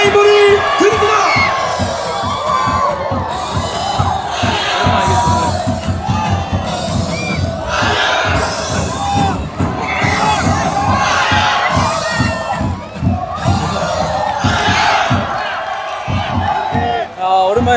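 Stadium crowd at a football match roaring and shouting loudly, with rhythmic chant-like bursts and whoops from many voices, sustained and close throughout.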